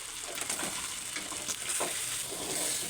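Spiced mutton fry, seasoned with coriander powder, red chilli and salt, is stirred in a pan to keep it from burning. A soft sizzle runs quietly underneath occasional faint scrapes of the spoon.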